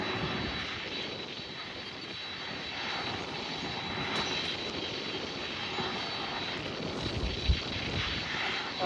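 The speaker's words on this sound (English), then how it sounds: "A321neo taxiing on Sierra, so we'll depart shortly" An American Airlines A321neo jet taxies on a taxiway at San Juan International Airport, its engines giving a steady, even roar that stays constant throughout, with no voices.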